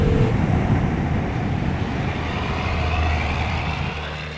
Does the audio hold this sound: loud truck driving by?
yes